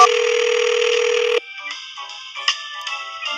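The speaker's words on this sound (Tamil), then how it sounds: "இந்த ஃபோன் நம்பருக்கு போயிட்டு 114 போடுவோமா?" A steady electronic telephone tone in the Comic Book Store Simulator game sounds for over a second and cuts off, followed by faint scattered beeps and blips, all close with no speech.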